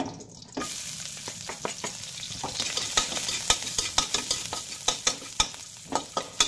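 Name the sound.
garlic sautéing in a pan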